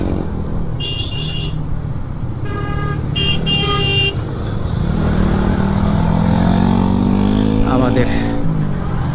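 Motorcycles pass on a road with a constant loud engine rumble, brief high horn toots and a rising whine as one pulls by close. Someone talks throughout.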